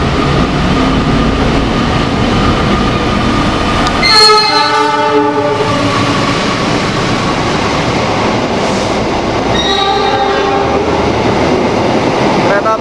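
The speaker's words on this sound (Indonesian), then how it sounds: "Kereta api Argo Parahyangan tambahan rangkaian kereta api Gajayana. Melintas langsung jalur 3 stasiun Bekasi." Argo Parahyangan passenger train, running with extra Gajayana carriages, passes straight through track 3 at Bekasi station in Indonesia. It makes a loud, steady rumble and rattle, with two horn blasts, one near the start and one later.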